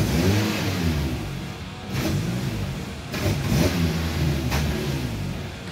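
A Volkswagen Golf 3 cabriolet engine runs roughly at idle, surging and dipping unevenly before it stalls. It is heard up close with no voices.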